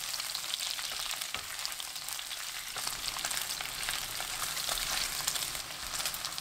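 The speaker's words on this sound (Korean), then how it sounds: "삼겹살이 모두 익으면 마늘 넣고 1분 볶습니다." Garlic and pork belly stir-fry together over high heat in a pan, producing a dense, even sizzle that holds steady from start to finish without any voices.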